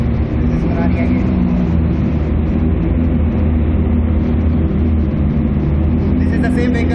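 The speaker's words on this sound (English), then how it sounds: "This is Ferrari again." Ferrari sports car engine at a sports car rally, a loud steady drone filling the whole stretch, with voices talking over it.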